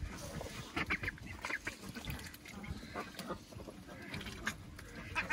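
Several ducks honk and quack in a busy, overlapping chorus close by, with steady rustling and movement underneath.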